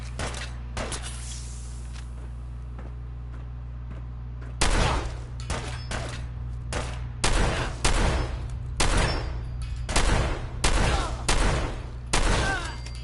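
Shotgun blasts ring out in a Fallout 4 firefight, a rapid run of loud, sharp shots in an uneven rhythm over a steady low background hum.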